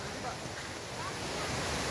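River water rushes through a forest near a waterfall, a dense, steady broadband roar that is loud and continuous, with no distinct voices.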